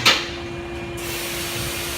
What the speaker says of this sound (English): I spray the bore, a little bit of trans fluid